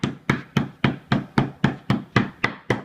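Ten sharp, evenly spaced thuds of a mallet pounding meat flat for schnitzel, steady and close, with no talking.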